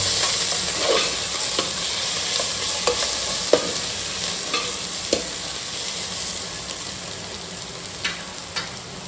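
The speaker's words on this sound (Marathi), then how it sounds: "तर इथे कांदा चांगला परतवून घेतल्यानंतर त्यामध्ये आलं लसूण पेस्ट टाकायचे ही पेस्ट देखील कांद्यामध्ये चांगले मिश्रित करून घ्यायची" Onion and ginger-garlic paste fry in a pan, a steady soft sizzle broken by scattered scrapes and taps of a spoon as the mixture is stirred, close and moderately quiet.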